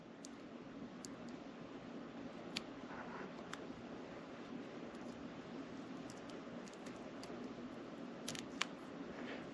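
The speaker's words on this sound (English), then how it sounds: "So now I'll take a sharp pair of scissors." Sharp scissors snip through mallard flank feathers, giving faint, crisp cuts scattered over a quiet, steady hiss with no voices.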